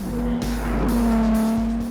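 Ferrari 296 GTS hybrid supercar with a 3-litre V6 and electric motor accelerating hard, a loud, steady, rising engine note held close for about two seconds with no talking.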